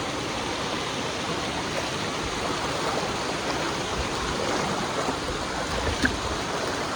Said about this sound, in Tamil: இந்த தண்ணி எல்லாம் மேலே மலையிலிருந்து வருது